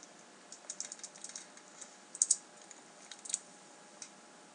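Quiet, close clatter of fingers typing on a computer keyboard, a quick run of keystrokes followed by a few sharper, louder presses like the enter key, with brief gaps between bursts.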